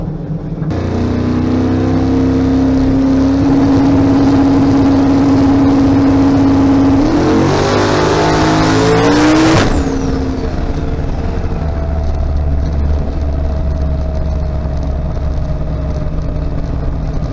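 A race car sits idling on the track, then its engine revs sharply and it accelerates away. A loud, steady engine drone continues close by afterward.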